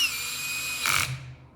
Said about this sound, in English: I use a cordless drill with the clutch